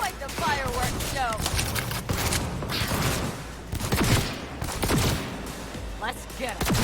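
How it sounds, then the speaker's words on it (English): Cyberpunk 2077 fireworks: repeated sharp pops and crackling bursts with whistling rises, scattered irregularly at mid distance, mixed with game effects and other sounds. "Quite the fireworks show!"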